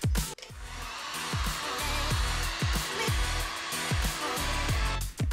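A hair dryer blows hot air onto fresh silver paint on a Yamaha SR250 motorcycle engine case, a loud continuous whooshing roar with rhythmic low thumps, switching on at the start and briefly cutting out near the end.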